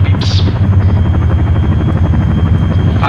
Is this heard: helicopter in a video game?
yes